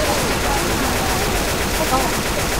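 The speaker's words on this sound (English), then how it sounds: "Oh, shoot it! Oh, I can't shoot it! I shot it!" Rapid, dense gunfire from a Left 4 Dead 2 co-op session plays continuously and loudly, a constant wash of shots with no gaps throughout.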